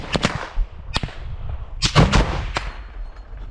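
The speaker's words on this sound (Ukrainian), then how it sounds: "Вот это вот мы слышим, как они еще все-таки от БМП стреляют." Several sharp, loud gunshots crack out irregularly in combat, some in quick pairs, including fire from an infantry fighting vehicle, followed by rumbling echoes and a dull background rumble.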